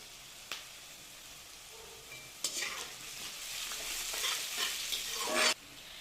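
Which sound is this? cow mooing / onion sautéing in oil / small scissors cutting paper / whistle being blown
onion sautéing in oil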